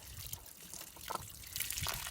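Water drains from the hot water line of a small 22-foot travel trailer, a faint, uneven trickle and splash with no talk.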